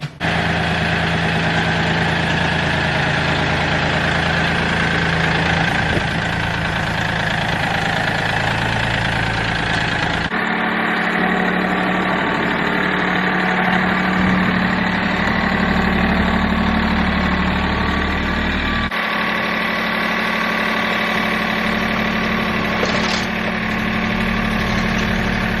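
A tractor engine idles steadily throughout, a continuous close mechanical drone with low rumble and slight knocking vibration, with a couple of shifts in tone partway through and no talking.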